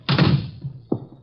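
A door shuts in an old detective radio drama, with a solid thud and rattle, a softer knock, then a second sharp thump close by.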